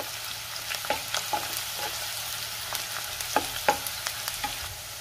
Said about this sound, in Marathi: कांदा आपल्याला परतून घ्यायचा आहे। कांदा मी 2 मिनिट परतून घेणार आहे व्यवस्थित।